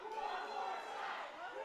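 Wrestling match crowd roaring in a sustained, dense wash of cheering and chatter during a DWA championship bout, steady and full throughout.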